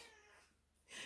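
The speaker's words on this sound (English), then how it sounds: "You might most likely will hear some meowing," A cat lets out a brief, faint meow indoors near a table, ending in a louder, higher cry, with no talking.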